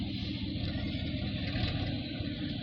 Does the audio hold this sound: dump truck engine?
yes